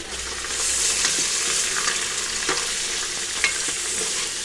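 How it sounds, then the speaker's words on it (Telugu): Green chillies, onions, carrots and tomatoes being stirred in a hot pan for veg biryani: a close, loud sizzle with scraping spoon strokes and a few sharper clinks, heard alone without talk. "పచ్చిమిర్చి, ఉల్లిపాయలు, క్యారెట్, టమాటాలు ఇవన్నీ వేసుకుని మంచిగా కలుపుకుందాం"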